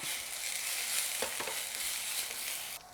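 Carrots frying in a pan with ginger garlic paste, a steady bright sizzle with brief stirring scrapes partway through, close and continuous, then dropping off abruptly near the end.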